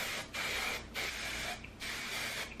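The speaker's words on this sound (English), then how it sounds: "I'm just going to spray this throughout my hair, especially my ends." Several short bursts of hissing heat protectant aerosol sprayed onto hair, close up, separated by brief pauses, with no talking.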